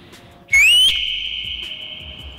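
A woman whistles a single loud, clear note up close, sliding quickly upward in pitch and then holding steady before gradually fading, with no speech over it.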